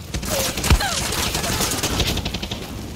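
SMG gunfire in the Far Cry 6 video game, rapid bursts of shots with one sharp heavy crack, dense rattling continuing over a busy battle background.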